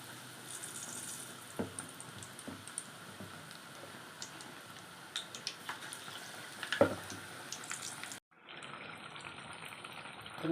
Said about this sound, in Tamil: எண்ணெய் காஞ்சிடுச்சு. பஜ்ஜி மாவு போட்டு